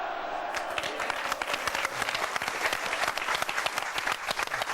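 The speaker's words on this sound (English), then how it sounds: "the crowd go wild" A boxing crowd in Britain cheers and applauds loudly after a knockout from a body shot, dense clapping and roaring with excited shouts rising throughout.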